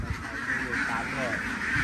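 Ducks quack in a continuous nasal chorus on a laying-duck farm in Non Sung, Korat, while someone talks over the flock.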